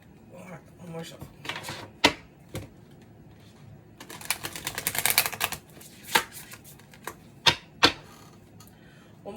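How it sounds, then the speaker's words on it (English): Tarot cards shuffled by hand, soft riffles and flutters with a burst of rapid card slaps in the middle and sharp taps as the deck is squared, up close. "One more good shuffle."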